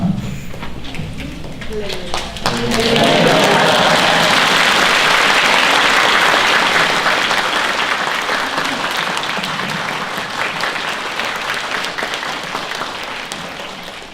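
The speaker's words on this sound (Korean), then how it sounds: "우리 나오실 때 할렐루야로 환영하고 박수하겠습니다." A church congregation breaks into loud applause, a thick sustained roar of clapping that swells suddenly after a few seconds of voices and stays strong, slowly easing toward the end, with talk mixed in.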